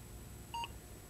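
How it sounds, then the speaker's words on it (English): A home computer gives a single short electronic beep as it finishes saving a program to cassette tape, brief and clear over a quiet background hum. "it'll beep once again."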